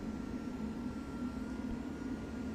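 Rear diesel locomotive motor idling in Train Simulator 2016, a steady low droning hum with a faint tonal whine, quiet and unchanging for a couple of seconds.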